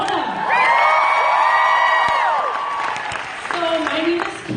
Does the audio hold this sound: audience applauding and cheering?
yes